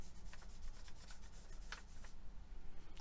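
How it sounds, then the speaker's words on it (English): A fingertip rubs a small crafted surface decorated with mica and stencils, making a soft, continuous, close-up rubbing hiss with faint scratchy strokes. "Hopefully, just rubbing it with my finger will smooth that out."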